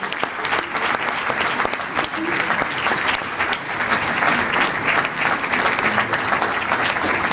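An audience at a French-speaking event applauds loudly and continuously, dense clapping filling the whole stretch with a slight swell toward the end.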